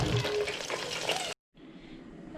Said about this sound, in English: I'm going to put in my carrots and whatever that's left of my potatoes into the deep fryer